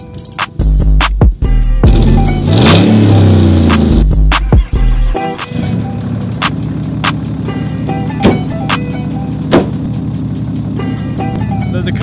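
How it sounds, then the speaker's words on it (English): A Cummins-powered work truck's diesel engine cranks and catches with a loud, rough surge and rev, then settles into a steady, close idle rumble. "All right, so the truck's finally started."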